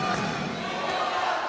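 Spectators in the stands of an indoor volleyball hall during a Russian Cup Final Four semifinal between Kuban and Zvezda, a dense roar of crowd noise and cheering that holds steady and loud throughout.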